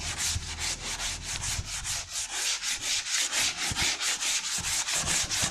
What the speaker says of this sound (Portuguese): Então passo uma lixa 80 abrindo.